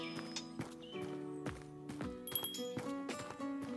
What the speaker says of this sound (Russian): Не хочет лошадка ехать?